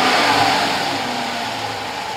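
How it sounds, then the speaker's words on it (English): A car engine fitted with a Corsa Performance air intake runs at a steady idle after startup, a continuous loud mid-pitched hum with a slight rev settling down. "Now start up the car."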